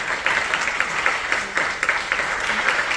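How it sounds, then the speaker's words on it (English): Steady audience applause in a high school concert hall, sustained dense clapping with no pauses, with faint voices mixed in. "can we give your parents, guardians, a round of applause?"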